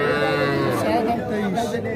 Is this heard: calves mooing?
yes